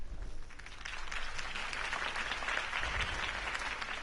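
A video game crowd applauds Harvey Dent's campaign speech with dense, sustained clapping and cheering that swells slightly midway and stays loud and continuous to the end.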